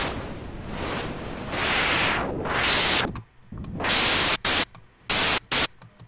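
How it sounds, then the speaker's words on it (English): Loud synthesized white noise hissing, sweeping through low-pass filtered rises and falls, then cut into short abrupt bursts with silent gaps between them. "you're gonna put the white noise"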